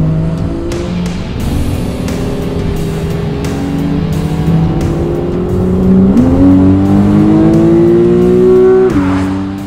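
Porsche 911 driven on twisty mountain roads: the engine drones steadily from inside the car, then revs climb and rise in pitch before easing off near the end, with a few clicks along the way.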